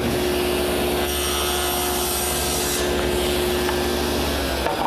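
A table saw crosscuts a tenon shoulder in wood, the workpiece guided by a miter gauge against a stop, giving a steady loud whine with a low hum running through the whole cut.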